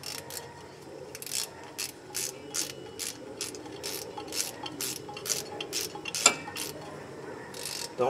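Ratchet snugging the wheel speed sensor bolt on the front left wheel of a 2005 Chevrolet Suburban, giving a rapid series of close, evenly spaced clicking strokes that carry on steadily to the end.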